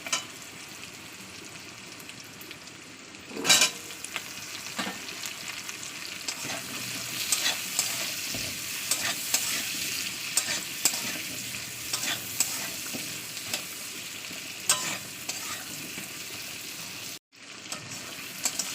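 Potatoes are added to onions frying in hot mustard oil and stirred, giving a loud splash and sizzle followed by a continuous close hiss with repeated scraping stir strokes. It cuts off briefly near the end.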